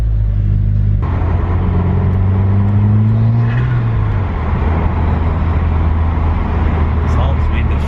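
Interior drone from a 2019 Subaru WRX fitted with an Invidia N1 single-exit race exhaust, a loud steady low rumble filling the cabin with a rising engine tone early on, as people talk over it.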